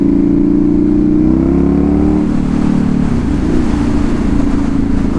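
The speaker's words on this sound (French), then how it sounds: "un beau quad là, un beau Raptor." A Raptor quad bike passes nearby with a loud, steady engine drone whose pitch rises and then falls away as it goes by, ending in rougher road and wind noise. No voices are heard.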